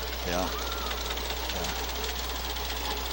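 A 1945 John Deere GM tractor engine runs at a steady idle during a town parade, giving a constant low rumble beneath nearby voices.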